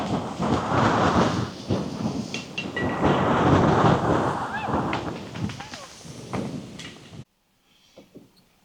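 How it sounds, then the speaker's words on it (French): Strong wind gusts buffet a microphone on an open golf course during a storm, a loud rushing roar swelling and surging for about seven seconds before cutting off abruptly into near silence. "Je sais pas pourquoi il y a des coups de vent comme ça, c'est rare."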